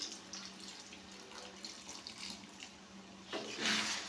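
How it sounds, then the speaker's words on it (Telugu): Half a glass of water is poured into an eggplant tomato curry, a steady watery rush under faint kitchen noise that grows louder and splashier near the end. "అర గ్లాసు వాటర్ పోయండి."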